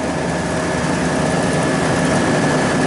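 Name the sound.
condenser fan motor running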